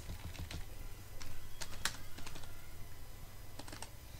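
Typing on a computer keyboard while entering footnote text in MS Word 2007: close, irregular clusters of key clicks with brief pauses between bursts, over a faint low hum and with no talking.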